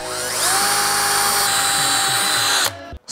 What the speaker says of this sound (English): Now I'm gonna drill the holes. I keep it lubed up with some WD-40, and we're using cobalt drill bits.